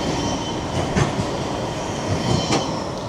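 A Blackpool tram rolls past with a steady rumble, faint wheel clicks and a soft squeal from the rails, heard up close and without talk.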